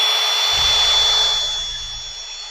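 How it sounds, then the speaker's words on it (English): A drill fitted with an eraser wheel runs on a low setting to strip a badge off a car's paint, giving a steady close whirring hum that fades slightly toward the end. "you're going to come in with your eraser wheel on your drill. Don't have it cranked up on the highest setting"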